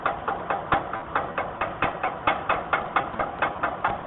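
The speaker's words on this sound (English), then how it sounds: "we're going to chip off the slag" A hammer chips slag off an E7018 weld bead with a steady, fast series of sharp metallic taps, about four per second, close and clear, no talking.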